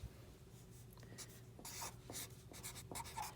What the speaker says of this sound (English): so you just write a 0.